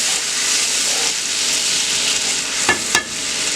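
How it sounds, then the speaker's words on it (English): Steak and potatoes with garlic salt fry in a pan, a steady broad sizzle hissing throughout, with a couple of brief clinks from stirring near the end. "And I'm going to stir it."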